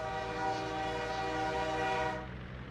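A train horn sounds in the city-building game Workers and Resources, one long sustained harmonic blast, loud and steady, that cuts off sharply after about two seconds.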